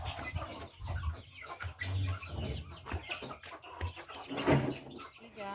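Several chickens cluck and murmur nearby in a busy, irregular chatter, with fainter farmyard noises in the background.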